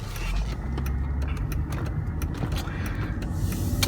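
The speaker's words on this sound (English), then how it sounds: "It has plenty of pep when you hit the gas. It takes off nice, and has that sort of, airy feel that a good 6-cylinder has." A 2006 Mercedes-Benz S350 with a six-cylinder engine accelerating, heard from inside the cabin as a smooth, steady low engine hum with road noise and a few light clicks and rattles.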